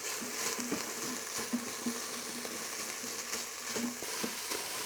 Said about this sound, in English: I'm dry frying these, not using oil obviously